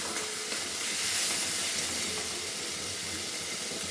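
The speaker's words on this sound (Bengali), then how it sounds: "হালকা করে আমি ভেজে নেব এইভাবে" Shrimp fry lightly in hot oil, giving a steady close hiss of sizzling with no talking.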